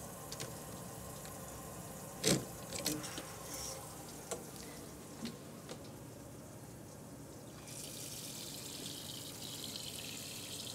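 Water runs from a motorhome shower head into the drain, a steady faint hiss and splash with a few louder knocks and clatters, the spray growing brighter and stronger near the end.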